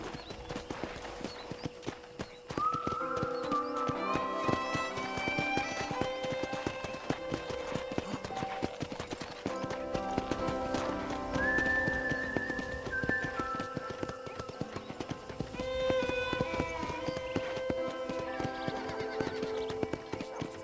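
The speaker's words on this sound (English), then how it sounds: "let's see if you can still ride a horse" Steady clip-clop of horse hooves at a trot in the video game Red Dead Redemption, continuous and near, with soft background music and occasional whistling tones.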